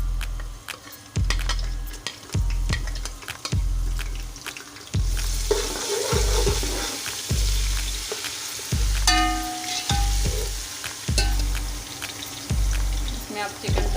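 Ginger garlic paste fries in a pan with a continuous sizzle that grows brighter midway, while a spoon knocks against the pan in regular thuds about once a second.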